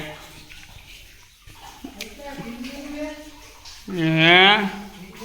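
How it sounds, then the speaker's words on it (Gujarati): Water gushes and splashes as it flows into a farm borewell nearby, with voices talking over the flow. "જો આટલું આટલું પાણી આ બોરની અંદર"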